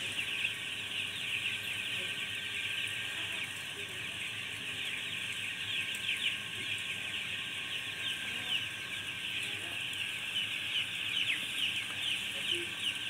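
A flock of broiler hens in a poultry house clucks continuously in a dense, overlapping murmur. Individual calls are faint within the steady chorus, and a constant hiss runs underneath.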